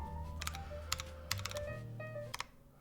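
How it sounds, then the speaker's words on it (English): Rapid, clattery keystrokes on a TGR Alice round 1 mechanical keyboard with Penguin switches, typed in uneven bursts up close over a steady low hum, with no voices. "this is what this keyboard sounds like. This is the TGR Alice round 1."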